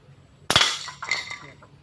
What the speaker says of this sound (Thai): นี่จะยิงกระป๋อง